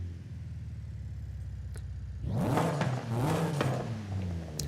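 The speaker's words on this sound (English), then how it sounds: "So this is the stock exhaust." Car engine in Forza Horizon 5 with stock exhaust, idling with a steady low burble before a loud rev that climbs and rises and falls over the next couple of seconds, close and alone.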